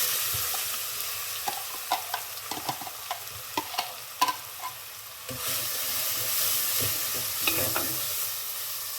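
Finely hand-crushed onions hit a hot pan and sizzle steadily, with a string of sharp stirring clacks and scrapes in the first half, then a broader, fuller frying hiss; no one talks.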